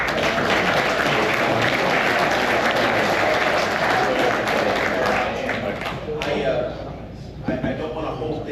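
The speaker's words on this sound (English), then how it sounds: "Having another round of applause for him." Sustained audience applause at a battlefield history conference, a dense steady wash of clapping that fades and thins toward the end, with brief voices emerging near the close.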